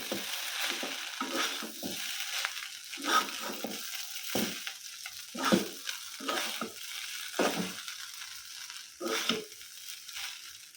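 Prawns and snakehead fish fry slowly in a pan, giving a faint, steady sizzle broken by repeated soft scrapes and stirs at irregular intervals. The sounds are close and quiet, and no one talks.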